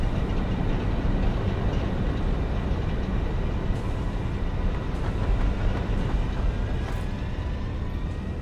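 A train rolls along continuously in the factory-building video game Satisfactory, a steady rumbling drone with rail clatter and no talk.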